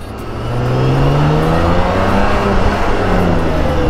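A BMW K1600 six-cylinder motorcycle engine pulls steadily while riding, a smooth continuous drone with rising harmonic tones as it accelerates, loud and close with no talk.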